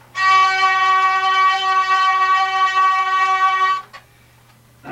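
Hurdy-gurdy with its wheel cranked faster, a loud, reedy sustained drone on the melody strings that holds steadily for several seconds, then stops abruptly, followed by a couple of soft knocks.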